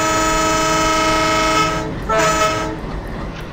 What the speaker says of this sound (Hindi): एक बार लंबा सा हॉर्न बजाते हैं